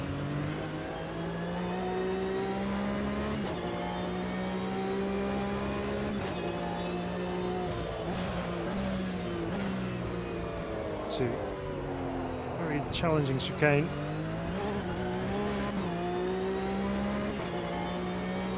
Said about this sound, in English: Lots of other noises, not just the engine sound. There's some gearbox noise added in there as well.